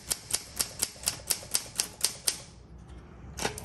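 Ten evenly paced, crisp key strikes clack on a 1958 Olympia SM3 manual typewriter, struck hard and close, followed by a pause and one last clack.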